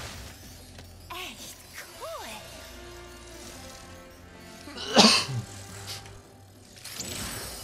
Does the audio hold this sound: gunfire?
no